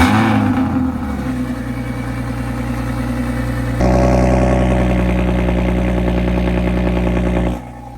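BMW 340i engine starting with its exhaust valves manually opened, firing into a loud, steady idle with a deep rumble that swells partway through and continues to the end.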